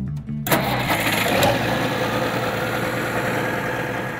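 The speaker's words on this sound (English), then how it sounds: "I got a 1964 Alice Chalmers D19 turbo diesel." A 1964 Allis-Chalmers D19 turbo diesel tractor cranks and fires after a short starter whir, then settles into a loud, steady rumbling idle close by, with no one talking.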